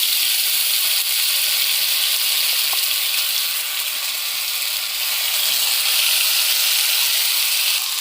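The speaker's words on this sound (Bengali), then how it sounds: "এটাকে এখন ভেজে নেই ভালো করে, মশলাটাকে 2 মিনিটের জন্য ভেজে নিই" A spice paste with white and black cumin fries in a pan, giving a steady, bright sizzle and hiss that stays even and close with no talking over it.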